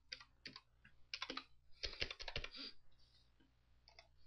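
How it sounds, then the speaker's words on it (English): Keys on a computer keyboard are tapped in quick, uneven bursts as a password is entered, close and quiet, with short pauses between clusters of clicks and no talking. "it asks you to go ahead and type in your password"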